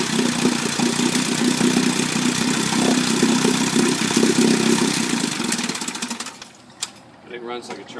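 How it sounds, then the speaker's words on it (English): A 1957 Johnson 18hp two-stroke outboard engine runs with a steady buzzing putter, loud and close, then cuts out near the end, leaving a few faint knocks and murmurs. "It runs as good as any outboard I've ever seen. 2-stroke outboard."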